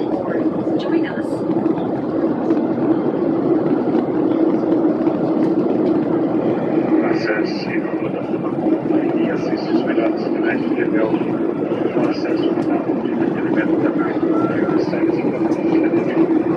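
Airplane cabin in flight: a steady, loud broadband engine and air roar fills the space continuously, with faint muffled voices underneath.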